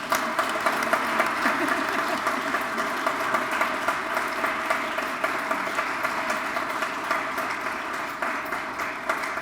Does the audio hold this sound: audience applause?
yes